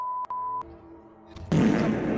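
A loud, sudden gunshot-like blast bursts in after a few electronic beeps, followed by a roaring, reverberant tail that lingers at high level.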